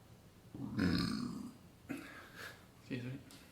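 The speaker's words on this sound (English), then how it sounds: "Burping aloud." A person burps aloud several times during a quiet guided body-awareness session, with one long deep belch followed by two shorter ones, close and fairly soft.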